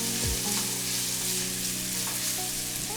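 Radishes and peppers sauté in a pan for chicken tortilla soup, giving a loud, dense, unbroken sizzle up close, with faint background hum and no talking.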